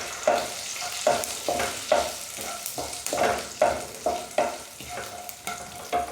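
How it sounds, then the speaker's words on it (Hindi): Spices fry in hot oil with a continuous close crackle and sizzle, broken by recurring scraping strokes of a spoon in the pan at a roughly regular rhythm. "तो ऑयल गर्म हो गया है तो इसमें ये हम मसाले डाल देंगे। और मसालों को हल्का सा भून लेंगे।"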